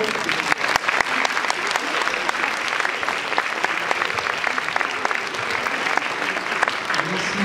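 An audience applauds the volunteers at a Christmas show held by Grenoble INP. Many hands clap in a dense, steady burst that holds at an even level throughout, with a few sharper claps standing out.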